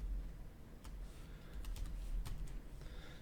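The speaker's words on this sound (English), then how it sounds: "So I'm going to go in here, type in 35" Several scattered keystrokes on a computer keyboard, entering a value into 3D design software for a drawing-tablet stylus holder; faint, quick taps over a quiet room hum, no voices.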